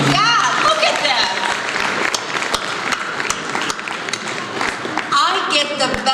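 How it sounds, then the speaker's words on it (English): Applause from a large audience at a gala dinner, dense sustained clapping filling the room, with voices and cheers mixed in and a speaker talking over it. "Give yourself a hand."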